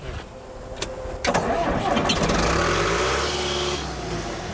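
A John Deere dozer engine starting with the throttle wide open: clicks and cranking, then the engine catches and roars loud, settling into a heavy rumble.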